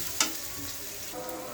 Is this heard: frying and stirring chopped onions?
yes